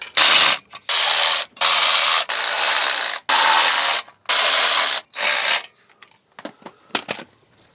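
A ratchet wrench works in six steady bursts while a clutch is fitted to a 2011 Vauxhall Corsa 1.2, ending in a few sharp, scattered clicks; close and loud, with no talking.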